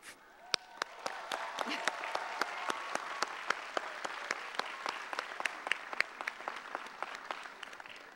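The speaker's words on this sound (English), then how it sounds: "please join me now in a round of applause to thank them" Audience applause at the 2009 JFK Award ceremony: steady clapping from a mid-sized crowd, moderately distant and fairly quiet, holding for about eight seconds, with a few sharp, louder claps standing out near the microphone.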